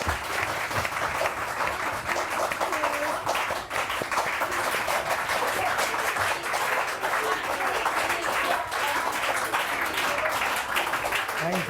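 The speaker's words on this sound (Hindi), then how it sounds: "तालियां बजाइए जोर।" Studio audience applauding on the set of a Pakistani morning talk show, with steady, dense clapping that stays loud and unbroken throughout.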